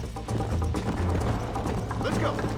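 A horse's hooves clip-clop in a quick, steady rhythm in the Red Dead Redemption video game, loud and close within a dense wash of game sound.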